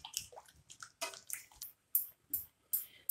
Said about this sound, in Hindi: पानी आप अपने अंदाज से डालिए